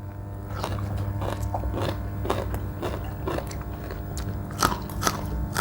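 Crunchy fried snacks are eaten with repeated loud bites and steady chewing crunches, close and alone, at an irregular rhythm.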